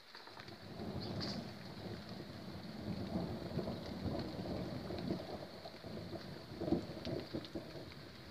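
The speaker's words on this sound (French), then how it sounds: "bah on a bien eu un orage." An evening thunderstorm pours steady rain, with low thunder rolling through the hiss and a few louder rumbles. It sounds moderately close and continues throughout with no voices.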